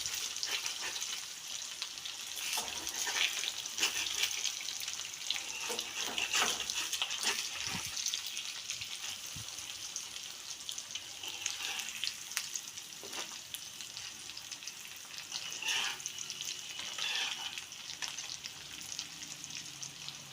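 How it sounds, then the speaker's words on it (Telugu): Small pieces of egg fry in a pan with a steady, soft sizzle and crackle throughout, joined by occasional scraping and stirring clicks, close by and with no talking. "ఇలా చిన్న చిప్స్ కింద మనం కొంచెంసేపు ఫ్రై అవనివ్వాలండి"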